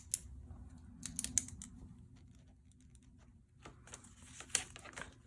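Sheets of paper being ripped out of an altered book junk journal, a few short crisp tearing bursts separated by quieter handling, close up and alone.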